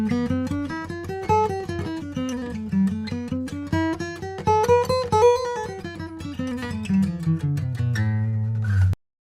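A plucked guitar runs up and down an A natural minor scale in steady, even notes, ending on a sustained low note before cutting off.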